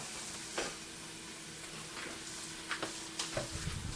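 Chipotle peppers in adobo sauce hitting a hot pot, a quiet steady sizzle with a few soft clicks and stirring scrapes near the end.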